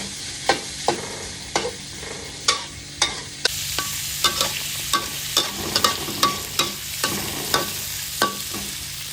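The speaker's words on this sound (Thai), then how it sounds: "แล้วก็คั่วแบบนี้มันจะแซ่บแล้วก็รสกินข้าวได้" Food being stir-fried in a pan by hand, with a spatula scraping and knocking against the pan in a quick irregular rhythm over a steady sizzle, close and loud.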